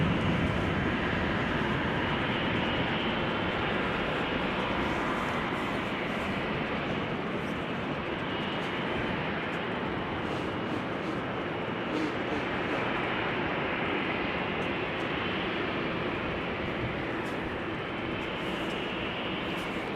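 Steady broadband jet roar of airliners at Amsterdam Schiphol Airport, among them a Turkish A330-200 in retro livery, holding loud and even throughout with no talk.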